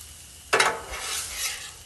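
Cooked food stirred together on a 36-inch Blackstone griddle: after a quiet start, a sudden burst of sizzle and metal spatula scraping, then a steady, close frying hiss with soft swells.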